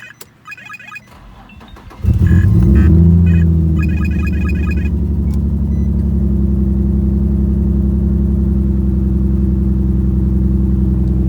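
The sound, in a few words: Infiniti G35 car engine revving after spark plug replacement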